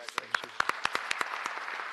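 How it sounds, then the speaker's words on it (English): Scattered applause from a small group at a city public works board meeting, quick irregular claps at close range, with a voice briefly mixed in. "A round of applause."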